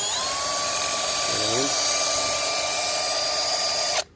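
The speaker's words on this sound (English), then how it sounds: "I'm going to use my high-speed tool with a carbide burr bit, and I'm actually going to make a bigger indent" A high-speed rotary tool with a carbide burr bit cuts into a loose door handle, giving a steady high-pitched whine that holds for about four seconds, dips briefly as the bit bites, then stops abruptly.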